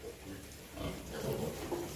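A sow pig farrowing in a farm pen, giving low grunts and snuffling noises close by in a continuous, moderately loud stretch.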